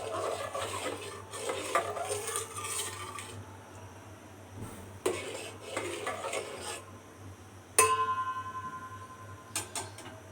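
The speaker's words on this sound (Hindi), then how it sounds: "क्रीम को मिक्स कर रहे हैं।" Butter and cream being stirred together in a pot while making kulfa khoya, with scraping and clinking of a spoon against the pan in bursts, followed by a sharp metallic clink and a ringing tone near the end.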